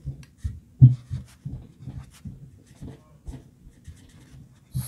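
A pen moves across the pages of a journal in close, soft scratches and light thumps that come in short bursts with small pauses between them, in a quiet room.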